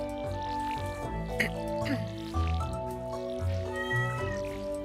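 A cat named Opal meowing in Stardew Valley, several drawn-out meows layered over the game's tonal music, fairly close and prominent.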